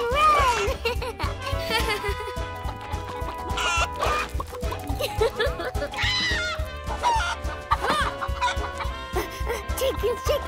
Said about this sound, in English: Chicken, run, run, run!